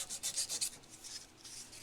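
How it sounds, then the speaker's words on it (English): A fret eraser rubs file marks off the new frets of a vintage Hohner Shark Fin guitar, giving a quick run of about five close, soft scrubbing strokes followed by lighter, fainter rubbing. No one speaks. "knock the file marks out as much as I can like this, I use fret erasers"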